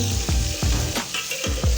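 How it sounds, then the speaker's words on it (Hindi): Garlic and green chilies frying in a hot pot, a loud continuous sizzle with rhythmic stirring scrapes recurring every half second or so, no voices. "इसमें अब हम लहसुन और हरी मिर्च डाल देंगे"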